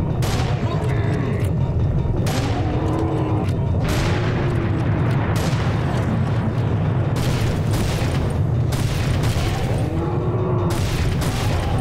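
Cannons fire in a medieval Europe shooter video game, a steady series of heavy booms and explosions over loud continuous battle noise, with a voice talking at times.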